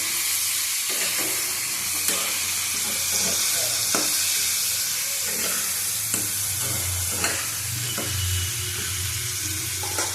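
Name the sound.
hilsa fish and taro sautéing in pan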